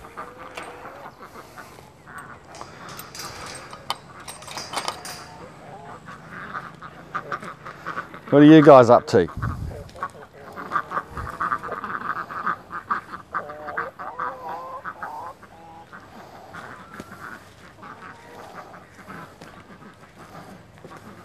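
Ducks quacking in a flooded self-sufficient garden after a cyclone, scattered calls in the background while a person talks nearby, with a brief loud bump partway through.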